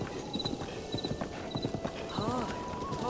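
A horse's hooves clip-clop at a steady trot in Zelda: Breath of the Wild, near and even, with a brief whinny, a faint game chime and some talking over it.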